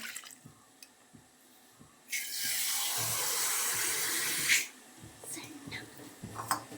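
Water is poured into a mixer grinder jar holding half a shell of coconut and cardamom. It makes a steady rushing splash for about two seconds, loud and close, with quiet clinks before and after.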